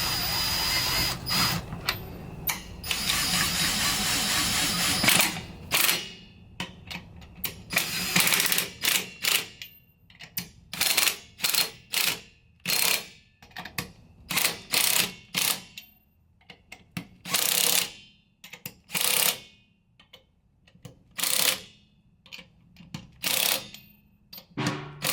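A power drill whirs in long runs and then in short repeated bursts, mixed with ratchet clicks, tightening down a narrowed Mopar 8 3/4 rear axle on a 1967 Dodge Coronet; the work is close, loud and continues throughout.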